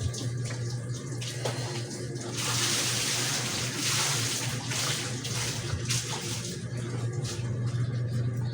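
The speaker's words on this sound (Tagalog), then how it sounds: "Habang mayroong tubig" Tap water gushes steadily into a baby's bath, a dense continuous splashing that swells louder partway through, with a low hum beneath and no speech.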